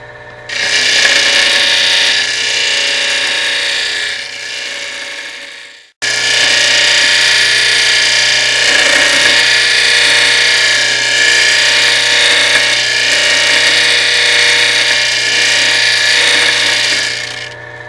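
A loud, continuous mechanical grinding whine as an agate marble is ground dry, without water, running in two long stretches broken by a short pause, staying steady and close throughout.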